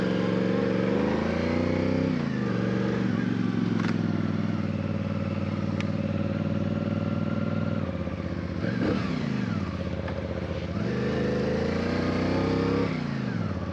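A CFMoto CL-C motorcycle rides on a winter road in Wisconsin, its engine loud and close with steady drone and rising and falling revs through gear changes.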